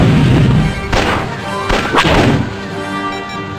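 B-wing starfighter weapons fire in the Star Wars space combat game XWVM during an attack on the Death Star surface: several sharp, loud blasts at irregular intervals over a continuous engine rumble, with no talk.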